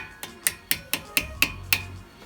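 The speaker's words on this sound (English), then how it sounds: "take your hammer, thread it in so you don't. Just give it a little tap." A hammer taps the retaining bolt on a front brake caliper of a 2009 Porsche Cayenne: seven sharp, evenly spaced metallic knocks, close and clear, with no talking.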